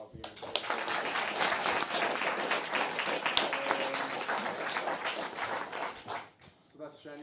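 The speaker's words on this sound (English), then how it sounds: "Just give them a round of applause again." Audience applauding two speakers at the close of an evening talk event on ethics in artificial intelligence, dense sustained clapping filling the room before fading out as a voice resumes at the end.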